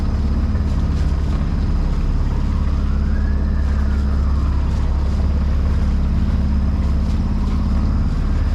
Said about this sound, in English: This is one of the big Sydney ferries